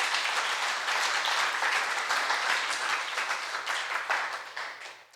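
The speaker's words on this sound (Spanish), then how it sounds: "Denle un aplauso al Señor para yo saber que usted está acá." A church congregation applauds together in a dense, sustained clapping that fills the room and fades slightly toward the end.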